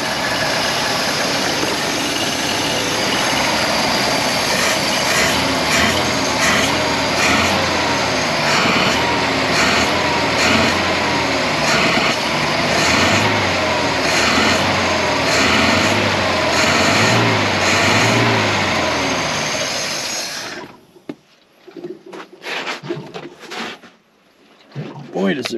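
The engine of a 1953 Packard Cavalier idles steadily, loud and close, for about twenty seconds. It then cuts out, followed by a few scattered handling knocks.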